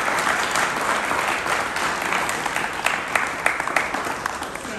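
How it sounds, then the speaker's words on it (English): Audience at a public cannabis forum applauding the panelists, a steady wash of many hands clapping at moderate volume, with a few sharper individual claps standing out toward the end. "round of applause for all of our panelists"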